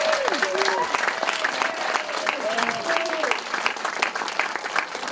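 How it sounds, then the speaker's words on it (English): Audience round of applause for Mary at a Jefferson College Caps for Benches presentation, sustained dense clapping across the whole stretch with voices talking and calling out over it. "Let's give Mary a round of applause."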